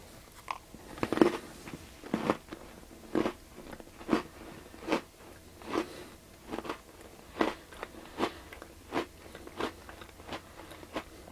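A quadruple-stuffed Oreo cookie is bitten and chewed up close, crisp crunches repeating in a steady rhythm roughly every second, with no talk over them.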